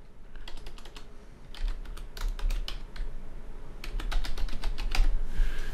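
Rapid bursts of typing on a computer keyboard, with quick crisp keystrokes in uneven clusters and short pauses between them, heard close and alone with no talking.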